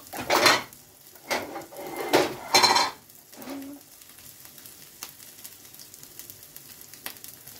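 Dishware knocks and clinks as a plate is picked up and handled in a kitchen, several sharp clattering bursts in the first three seconds, followed by faint sizzling and occasional small taps.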